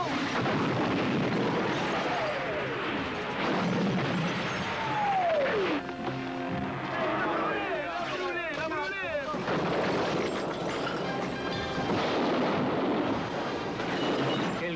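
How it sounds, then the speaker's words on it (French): Cartoon bombs fall and explode in a dense barrage. Whistling descents drop into a constant rumbling roar of blasts, loud and unbroken throughout. "Une lutte acharnée faisait rage dans un déluge de bombes."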